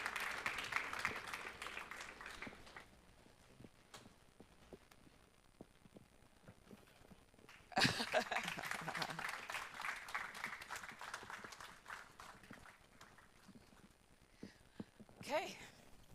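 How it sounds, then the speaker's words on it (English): Audience clapping for panelists at a startup investor panel at the HIFest 2026 event comes in several bursts, the strongest midway, separated by quieter gaps with people talking over room noise. "A round of applause for them."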